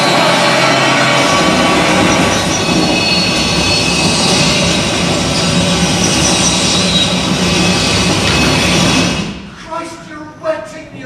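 A train rushes along in a loud, steady roar with a rattling hum and whining tones that suddenly cut away near the end, leaving short bursts of speech.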